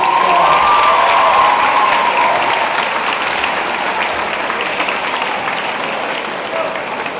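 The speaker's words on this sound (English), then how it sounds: "Please round of applause." Audience at a high school moving-up ceremony applauding the cum laude honor graduates, a loud full burst of clapping with scattered cheers and shouts that starts strong and gradually eases off.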